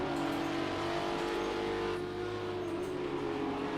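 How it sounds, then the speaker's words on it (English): Audi R8 LMS race car engine heard onboard during a lap, a loud continuous droning engine note that holds steady with a slight shift midway. "we ride on board inside his Audi R8 LMS"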